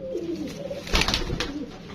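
Pigeons coo in a low, rolling murmur, with a louder burst of cooing and flutter midway through, fairly close and steady with no talk.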